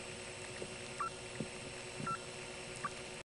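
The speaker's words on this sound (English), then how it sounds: "from this phone, I kept hearing some strange squealing noises." Strange squealing tones on a payphone line in Homer, Georgia, sounding as a few short, fairly faint high beeps spaced out over a steady low hum of line noise.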